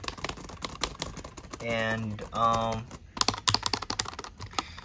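Typing on a ThinkPad W530 laptop fitted with the classic keyboard mod: dense, rapid key clatter close up, with a brief voice and a couple of short harmonic tones partway through.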